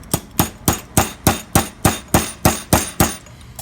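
A hammer strikes a screwdriver to pry an old Corbin metal door knob loose: about a dozen evenly spaced, sharp, loud metallic blows with no talking.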